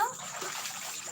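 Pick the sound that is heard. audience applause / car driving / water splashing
water splashing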